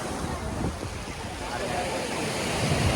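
Rough, aggressive sea surf crashing on Tiruchendur beach in sunny weather: a loud, continuous roar of breaking waves close by, with wind buffeting the microphone throughout.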